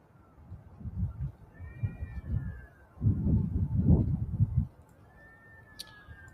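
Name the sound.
cats meowing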